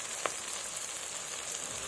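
Goat meat is dropped into hot oil and spice paste in a pan, giving a steady hissing sizzle with faint crackles and a soft clatter near the start, with no talk.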